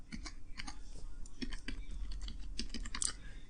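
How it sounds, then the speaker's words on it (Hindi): Rapid clicking keystrokes on a computer keyboard as a Linux terminal command is typed on Debian, irregular taps in quick bursts, close and fairly quiet, with no voice. "तो इसके लिए जो आपको कमांड टाइप करना पड़ेगा"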